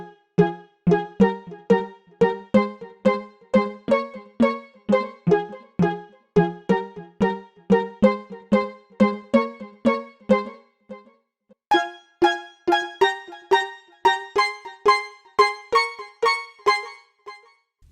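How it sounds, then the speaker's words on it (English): A synthesized steel drum lead built from a custom wavetable plays a bright, bouncy melody of short percussive notes in a steady, rapid rhythm, with a brief pause before the phrase resumes higher. "It's a steel drum actually and it's really dope, made with a custom wavetable that's also included in the pack."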